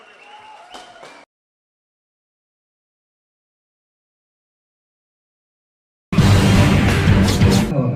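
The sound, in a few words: audience applause for the children at a stage show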